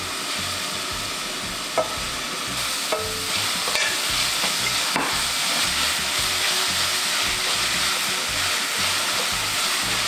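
Garlic and onion stir-fry in oil, a loud continuous sizzle with a rhythmic scraping of a spatula across the pan and a few sharp knocks, heard up close with no voices.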